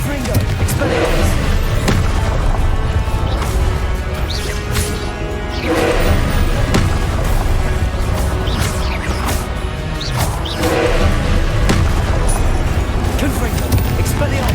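Confringo and Expelliarmus spells cast over and over in the Hogwarts Legacy video game, a dense run of loud blasts, crashes and thudding hits layered under voices and continuous combat noise.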